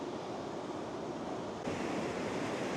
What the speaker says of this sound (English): You can see the big waves coming in and hitting it.